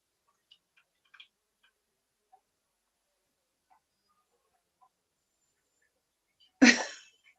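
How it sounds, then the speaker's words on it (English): One sudden, sharp sneeze bursts out near the end after several seconds of near silence broken only by faint ticks and clicks, loud and close, then decaying quickly. "you have to sneeze"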